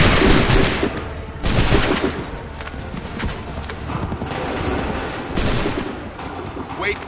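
Musket volleys in the Assassin's Creed III video game, loud bursts of massed gunfire that boom out at intervals with rumbling echoes and busy battle noise between them.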